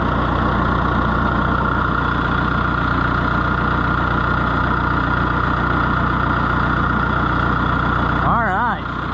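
A Fiat Oliver 1365 tractor engine idles nearby, giving a loud, steady diesel drone that holds evenly throughout with no change in pace.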